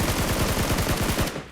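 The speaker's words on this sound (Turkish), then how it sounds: "Neden beri ateş sesi geliyordu buradan geliyormuş" A rapid burst of automatic gunfire in PUBG Mobile, loud and close, with evenly spaced shots rattling for over a second before cutting off.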